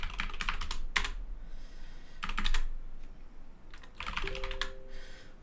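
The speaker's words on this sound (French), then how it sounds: "Donc on va taper quelques commandes." Keys clatter on a computer keyboard in quick bursts of typing as shell commands are entered on a Linux Bash terminal, with short pauses between runs and a faint steady tone near the end.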